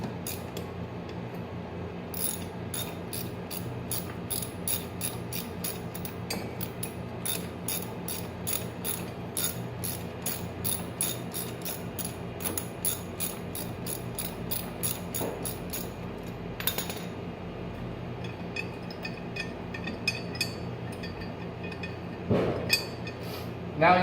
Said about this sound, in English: Just loosen this bolt right here.